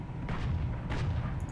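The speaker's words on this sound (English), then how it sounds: "I'm requesting an artillery barrage there." Artillery barrage rumbling in the War Thunder tank video game, a couple of heavy muffled booms over a continuous low roar.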